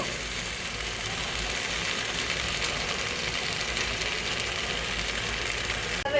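Chicken pieces fry in a pan over low heat while pulao is made, giving a constant dense sizzle, fairly loud and unbroken for about six seconds.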